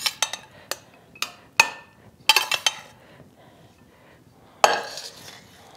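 Stir fry served out with metal utensils, a run of sharp clinks and scrapes against a dish in close succession, then a pause and one louder clatter, with no talking.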